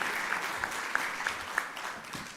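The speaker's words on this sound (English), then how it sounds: "Please clap for him as he comes on stage too." Audience applause at a funding symposium as a bank representative comes on stage, a steady wash of many hands clapping with a few sharper individual claps standing out.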